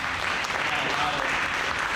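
Audience applause at a barber expo class in Houston, a dense steady wash of clapping filling the room throughout, with faint voices mixed in.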